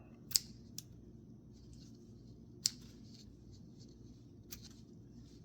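Scissors snipping through the strings of a cordless Mainstays mini blind, a few sharp separate clicks spread over a quiet room hum with no talking.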